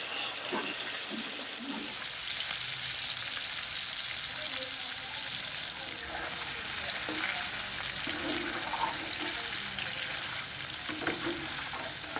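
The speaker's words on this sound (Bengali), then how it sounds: "কড়াই মাংস দিয়েছি, তেল খুব ছিটকছে। সেই জন্য করে আমি একটু দূর থেকে খুন্তিটা নাড়ছি।" Chicken pieces fry in hot, spattering oil in a kadai for a Bengali-style chicken kasha, with continuous crackling sizzle and occasional scraping from a spatula stirring the pan.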